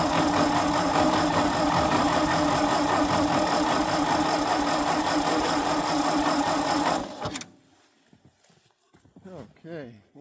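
An old Ford engine, very cold, cranks hard and loud in a steady rhythm for about seven seconds and then stops. A voice follows in the quiet that comes after.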